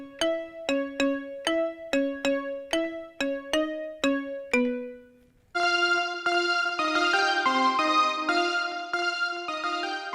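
A piano plays an easy pop melody as evenly spaced single plucked notes for several seconds, then fuller sustained chords ring out for the rest, clear and close with no talking.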